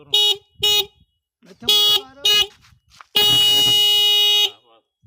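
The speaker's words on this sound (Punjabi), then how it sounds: "ਦੇਖੋ ਹਾਰਨ ਦੀ ਆਵਾਜ਼" A vehicle horn honks four short blasts in two pairs, then one long sustained blare, loud and close with brief quiet gaps.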